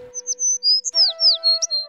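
A sparrow gives a quick series of bright, high chirps and short trills, close and clear, over a steady low hum.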